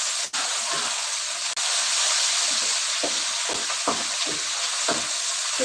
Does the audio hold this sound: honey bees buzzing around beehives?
no